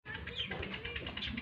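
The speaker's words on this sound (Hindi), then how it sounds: "ये कबूतर हैं" Steady, soft cooing of caged pigeons at a garden in Kot Addu throughout, a low murmuring texture with faint chirps, continuous and moderately close.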